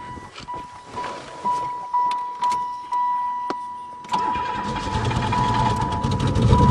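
A Pontiac engine cranks in several rhythmic bursts, then catches and starts, settling into a steady, louder running rumble.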